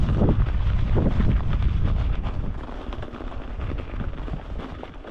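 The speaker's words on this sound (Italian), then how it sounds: "Tra poco avremo un po' di vento." Wind buffets the microphone during a snowy mountain bike ride toward Malga Campo, a continuous loud rushing and rumbling gust with no voices.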